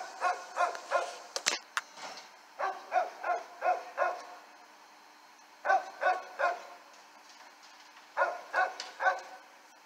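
A neighbor's dog barking outdoors in repeated bursts of three to five quick woofs, with short pauses between groups, moderately distant and heard alone with no talk.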